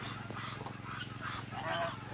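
A cluster of ducks on a farm honking and quacking over one another in a noisy, steady squabble over a female, fairly faint and distant.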